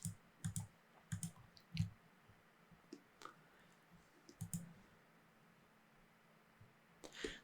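Mouse clicks at a computer while working in Power Apps, a scattered series of sharp close clicks, some in quick pairs, over quiet room tone with no talking.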